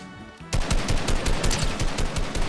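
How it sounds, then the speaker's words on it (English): Automatic gunfire in Fortnite, a sharp burst kicking in suddenly and continuing as a steady, fast string of loud shots close by. "they're getting shot at by somebody over there with an RPG"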